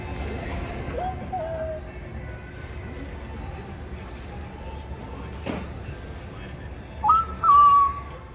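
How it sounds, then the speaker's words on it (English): A robot in a Cabela's store makes short electronic whistling chirps over a steady background hum, a faint one early on and a louder, rising pair of tones near the end. "she does make different chirping sounds"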